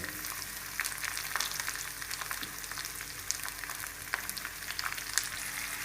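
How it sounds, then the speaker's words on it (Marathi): Onion hisses and crackles as it fries in hot oil over already-browned garlic, a steady, dense sizzle with scattered sharper pops, close and alone, no voices. "आपण आता कांदा टाकून घेऊ।"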